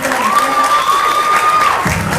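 Audience at a cultural ambassadors election event in Villa Ángela claps and cheers loudly and steadily, with a sustained tonal note running over the crowd noise before a low-pitched shift near the end.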